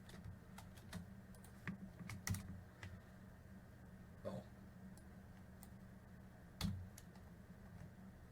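Keystrokes on a computer keyboard while working in RStudio, a faint, sparse scatter of clicks in short bursts over a low background hiss, with a slightly louder cluster of taps near the end.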